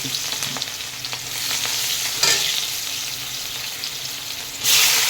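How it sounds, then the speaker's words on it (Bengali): Nigella seeds, onion and green chili crackle and sizzle loudly in hot oil, a close, continuous frying hiss that swells in two bursts as ingredients are stirred, with no talking. "এখন কালো জিরা তেলের ওপরে দিয়ে দিলাম একটু, অল্প একটু পেঁয়াজ কাঁচা লঙ্কাও দিয়ে দিলাম"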